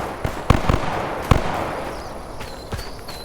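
Distant gunfire in the video game The Day Before sounds as a few sharp, scattered cracks and pops over steady ambient background noise, with no voices.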